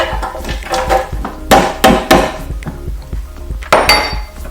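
Frozen blueberries and frozen banana pieces dropping into a blender jar, a run of hard clattering knocks and rattles, close and fairly loud, with a few sharper impacts standing out.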